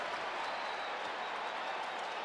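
Steady roar of a hockey arena crowd, a dense wash of cheering and applause without distinct breaks, moderately loud and continuous throughout.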